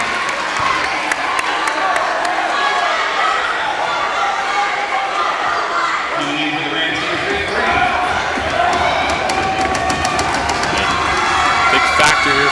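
A packed high-school basketball gym during a playoff game, with loud continuous crowd noise, sneaker squeaks, ball bounces and bursts of cheering, under a commentator's voice.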